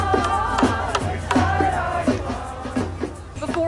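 A crowd of about 1,000 people at a march on the Republican National Convention in Milwaukee's Red Arrow Park, heard as close, dense crowd noise with overlapping voices, shouts and rhythmic claps or chants.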